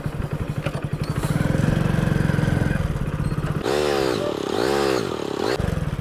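A motorcycle ridden by a learner putters along at low speed, its engine chugging in a steady beat, then revs up in two rising and falling surges as gears are shifted.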